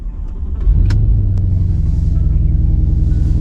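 A car engine rumbles loudly and close by, swelling into a steady rev after a short build and then holding a deep, even drone.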